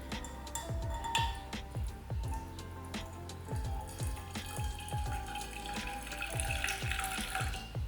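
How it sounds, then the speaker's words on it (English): Homemade teriyaki sauce liquid poured into a container, a thin continuous trickle with small dripping splashes, quiet and close, no talking. "So I'm gonna pour just the liquid back in here"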